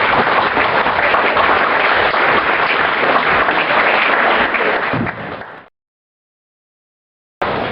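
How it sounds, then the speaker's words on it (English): A banquet audience at a community recognition awards dinner in Tipton claps in a loud, dense round of applause lasting several seconds, then it stops abruptly into silence before a brief burst resumes. "So let's give a round of applause to everyone here"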